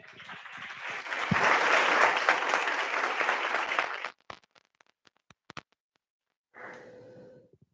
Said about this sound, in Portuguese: Vamos aplaudir o rei?